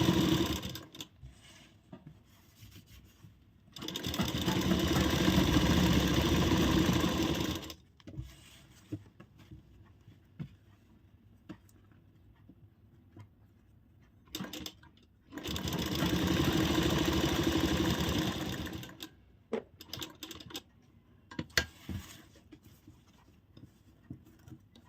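A sewing machine stitches a piped kurti in two steady bursts of loud running, each about four seconds long, separated by quieter stretches of handling and small clicks.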